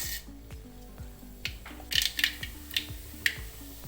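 Mustard seeds splutter in hot coconut oil: sharp little pops and crackles burst irregularly over a low, steady background, growing busier midway with several distinct snaps.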